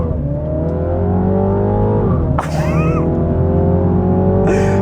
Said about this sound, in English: let's do some launch control